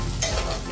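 Onions frying in a pan with chili and bay leaf for a mushroom masala, a steady close sizzle with stirring scrapes throughout, no voices.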